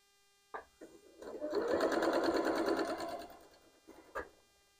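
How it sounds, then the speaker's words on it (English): A sewing machine stitches the first log of a 4-inch half log cabin quilt block, opening with a few short starts and then settling into a steady run of rapid needle strokes, close and clear, before stopping with a couple of final bursts. "we're going to go to the sewing machine and we're going to sew that"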